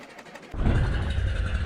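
A junkyard pickup truck's swapped V8 engine cranks briefly, then catches and fires into a loud, rough, steady running rumble close by.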